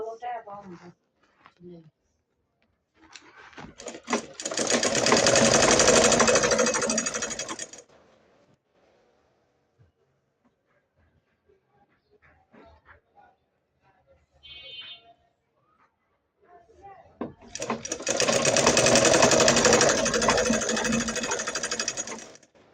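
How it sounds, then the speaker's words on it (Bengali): A sewing machine stitches a salwar in two loud, sustained bursts of rapid mechanical whirring, separated by a quiet pause with small handling clicks and brief sounds, close up. "সেলাই করে নেব।"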